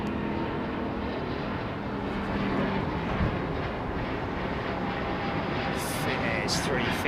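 A Finnair Airbus A350 taking off from London Heathrow and climbing overhead sends out a broad, heavy, continuous jet roar, loud and steady, while a person talks over it.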